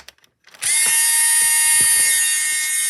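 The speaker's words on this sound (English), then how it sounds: "the screws that can be activated by pressing this" Motorized screws in a robot combat arena spin up with a loud, steady high-pitched mechanical whine after a short quiet start, holding at constant volume through to the end with faint clicks underneath.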